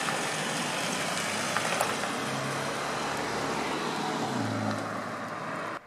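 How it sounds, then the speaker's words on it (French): Small 1800 midget race cars pass on the road outside the Magny-Cours circuit, a steady broad engine and tyre roar with a low engine note rising and falling as they go by, nearby and fairly loud. "Donc c'est des petits 1800 midget."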